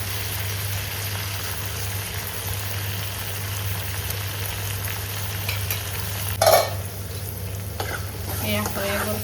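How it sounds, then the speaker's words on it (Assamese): Silkworms stirred and fried in a pan, a continuous soft sizzle with scraping stir strokes and a brief louder clatter partway through, close up and with no talk. "এনেকৈ লৰাই অলপ সময় ভাজিলেই হৈ যায়।"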